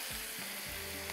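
Tomato and onion fry in a pan with a loud, dense sizzle that stays even from start to finish, while a low hum rises and falls underneath and nobody speaks.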